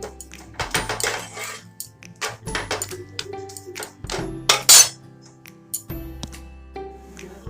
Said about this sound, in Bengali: এই দেখো, ফ্রাইং প্যানটা বসিয়ে দিয়েছি